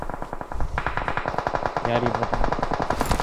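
Automatic weapon fire during a PUBG battle in a MENA South Asia championship match, rapid and steady bursts of close, loud shots with players talking over the shooting.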